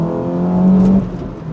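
A Honda D15B7 non-VTEC engine accelerates in a loud, close, buzzy note that climbs and holds for about a second, then eases off.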